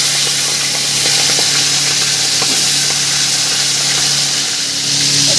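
Hilsa fish head frying in hot oil in a pan, giving a steady, loud broadband sizzle that runs unbroken throughout, with faint crackles and a low hum underneath.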